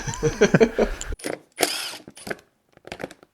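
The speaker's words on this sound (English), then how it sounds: "Gotta drill it out." Bursts of a power drill whirring in short pulses, close by, with brief mechanical clicks between, as it drills out a screw on a Suzuki DR650 motorcycle.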